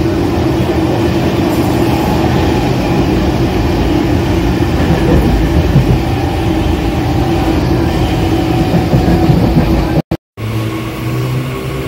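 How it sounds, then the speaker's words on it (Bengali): A train rumbles steadily along its rails, a loud continuous roar with faint rhythmic clatter, cutting out briefly near the end. "ট্রেনে উঠে গেছি, আসলে ট্রেনটা একদম পুরো ফাঁকা"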